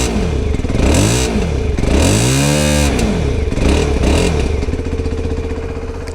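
Morbidelli T125X 125cc motorcycle, recorded close to the exhaust, revs repeatedly in loud rising and falling sweeps, with a raspy, off-road-like edge and a steady idle between the blips.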